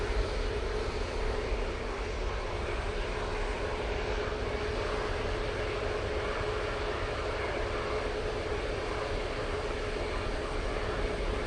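An EasyJet Airbus A321neo airliner at Manchester Airport gives a steady, loud jet engine roar that holds constant and broadband throughout, with no voices.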